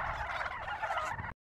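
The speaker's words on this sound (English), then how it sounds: "I'm telling you, it's the turkeys." Turkeys gobble in a dense, rapid, warbling chorus, loud and continuous, then cut off abruptly.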